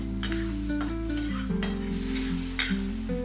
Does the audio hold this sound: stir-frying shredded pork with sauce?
yes